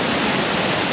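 A remote waterfall in East Sumba, Indonesia roars in a brief, loud, steady wash of rushing water, alone and without voices.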